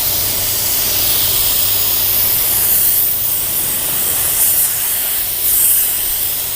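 An LVLP automotive paint gun sprays clear coat onto a car panel being blended, a steady close hiss of atomized spray that swells slightly toward the end, with no talking.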